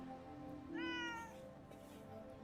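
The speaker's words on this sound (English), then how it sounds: "let's get a head pat for our new kitty" A pet kitty in the game Forspoken gives a single short, clear meow while getting a head pat, rising and falling over about half a second against a steady low background hum.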